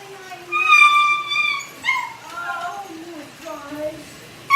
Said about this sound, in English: Wife came home, so the dogs are barking now